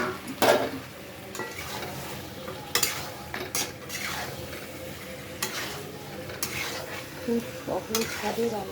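Boiled potatoes tipped into a hot pan of oil for a Bengali niramish aloo dum, with bursts of sizzling and frying plus stirring and the scrape and clink of a utensil against the pan, steady throughout.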